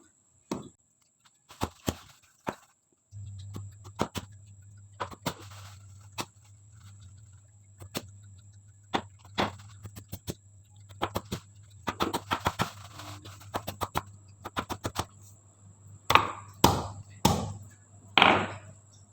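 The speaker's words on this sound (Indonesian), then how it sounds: "tumbuk jahe dan jangan sampai jahe terlalu halus" Ginger being pounded with a pestle for bandrek, the Indonesian ginger drink: irregular dull thumps, some in quick bursts, over a faint steady hum.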